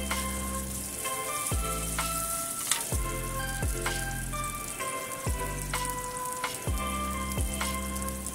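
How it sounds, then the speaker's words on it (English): Green peppers stir-fry in very hot oil in a pan over high heat, with a continuous sizzle and crackle and a few soft clinks from stirring. No one speaks. "When the pan is very hot, add in oil. Then add in green peppers. Stir fry a little bit."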